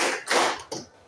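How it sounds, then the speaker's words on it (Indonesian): A group of people clap the 'tepuk siang' midday clap in a classroom guidance session, two quick broadband bursts of hand claps close together, without talk. "tepuk siang"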